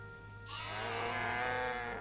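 Cows in the farming game My Time at Portia give one long, drawn-out moo that swells up and holds over faint background hum, with no talking.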